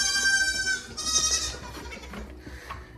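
Goats on a farm give several loud, close, drawn-out bleats, one after another, with quieter bleating fading toward the end.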